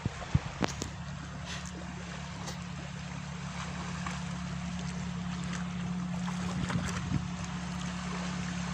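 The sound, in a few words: tractor engine passing, farming equipment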